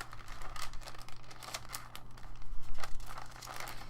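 Old, thin onion skin paper being handled gives close, irregular crinkles and rustles, soft and papery, with no talking.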